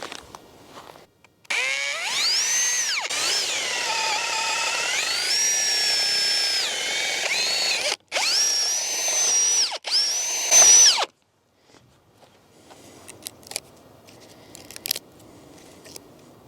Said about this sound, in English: So after you've used your drill and large bit